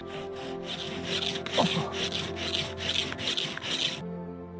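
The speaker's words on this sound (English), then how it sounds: "The cedar tree scraped off." Dry cedar being scraped for a tinder bundle, with about eight rhythmic rasping strokes close to the microphone that stop abruptly near the end.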